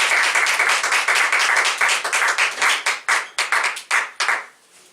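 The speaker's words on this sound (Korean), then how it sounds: "큰 박수로 환영을 하겠습니다." An audience at a Christian professors' forum claps loudly to welcome a missionary speaker, dense rapid applause that thins into scattered individual claps and fades out near the end.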